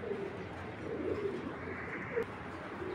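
A black checker racing pigeon coos softly in low, murmuring bursts against a quiet, hissy background.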